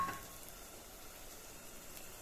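Ginger, garlic and shallot paste sautéing in oil, a faint, soft sizzle that hisses steadily after a brief louder start, with no talking.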